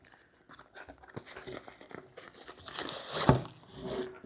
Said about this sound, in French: on reçoit l'ensemble dans un carton, comme ceci, avec le logo. Donc on va déballer tout ça ensemble.